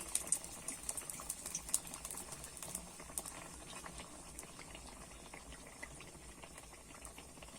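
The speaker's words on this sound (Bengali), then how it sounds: "আস্তে আস্তে কিন্তু ভেজে নিতে হবে তাহলে কিন্তু ভালোভাবেই ভাজাটা হবে" Malpua batter frying slowly in hot oil over low heat, a quiet bubbling crackle with a dense run of tiny pops, a little busier at first and then settling into a steady simmer.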